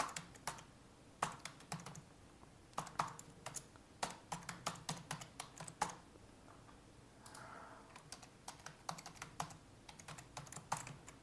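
Quick bursts of clicky keystrokes on a computer keyboard while logging in to a weather service account, irregular and close, with short pauses between runs and no voices.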